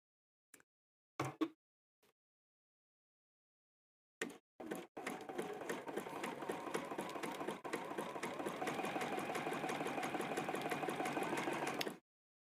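A sewing machine stitching elastic onto fabric: a few short bursts, a pause, then a continuous fast rhythmic whirring run of about eight seconds that stops abruptly, close and alone.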